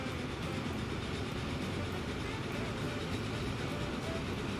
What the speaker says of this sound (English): Our first gondola train.